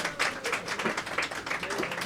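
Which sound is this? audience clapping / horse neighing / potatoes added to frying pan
audience clapping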